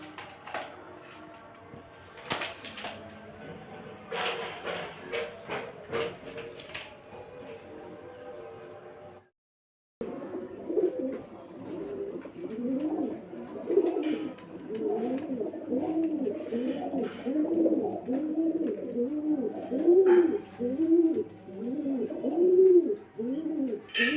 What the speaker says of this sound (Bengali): কালদুম পায়রা এলাহাবাদি কালদুম